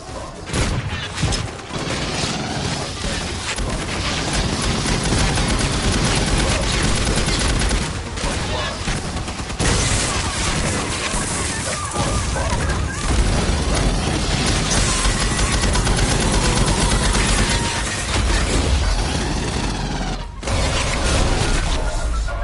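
Sustained heavy gunfire in Aliens: Fireteam Elite, rapid bursts and fusillades with booms and mechanical clatter, loud and continuous throughout.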